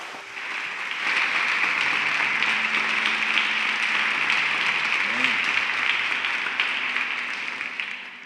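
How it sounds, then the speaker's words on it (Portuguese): A church congregation at a family conference applauds together in a steady, sustained wash of clapping that swells in and holds, with faint voices mixed underneath. "Aplauda Jesus."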